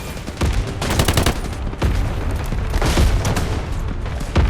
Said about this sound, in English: Request artillery barrage on coordinates.